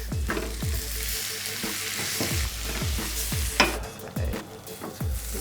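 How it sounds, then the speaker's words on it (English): Cumin seeds sizzle in hot oil in a pan during home cooking, a steady broad crackle with repeated low stirring scrapes and knocks, close and fairly loud with no voices. "So we're going to put in some cumin seeds. Hear those sizzling."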